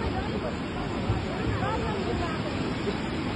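Swollen flooded river rushing in a steady, dense roar that fills the whole stretch without pause, with faint voices murmuring beneath the flow.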